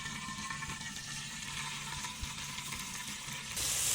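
Ghee heating in a pan on a stovetop gives off a steady, even sizzle with a watery hiss that runs the whole time at moderate volume, no voices over it.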